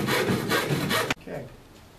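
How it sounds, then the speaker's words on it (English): A hand saw cuts through drywall with fast, rhythmic rasping strokes, loud and close, before stopping abruptly and leaving a quieter, brief scrape. "I'm gonna just use my hand saw here"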